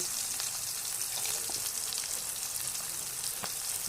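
Ginger and garlic paste frying with softened onions for a prawn and jackfruit curry, giving a dense, continuous close sizzle with faint crackles and no voices.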